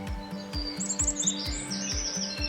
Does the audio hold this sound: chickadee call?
yes